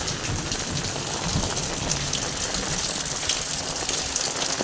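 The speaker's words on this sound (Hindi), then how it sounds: "ये देखो, बहुत ज़्यादा बरसात हो रही है।" Heavy rain pours steadily outdoors in August, a dense continuous hiss of drops drumming on surfaces, loud and unbroken with no voices.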